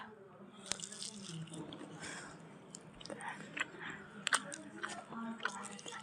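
Food is chewed and bitten close to the microphone in an ASMR eating session, with crunchy, wet mouth sounds. Quiet speech and some running water come in now and then.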